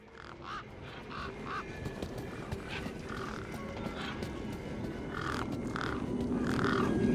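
Crows caw in repeated harsh bursts over a steady outdoor ambience in the video game Beyond A Steel Sky, fairly faint and spread across the scene.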